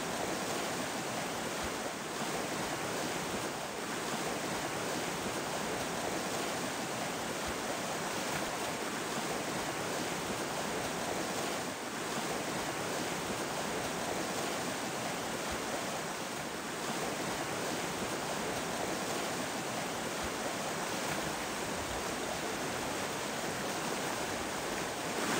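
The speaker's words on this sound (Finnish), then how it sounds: "Tämmönen on tää Käylän koski." Käylänkoski rapids in Kuusamo roar steadily as a constant, dense rush of water, unbroken and fairly loud for the whole stretch with no voices.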